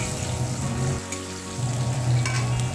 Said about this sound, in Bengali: এই যে দেখো মটনটা আমি কষাচ্ছি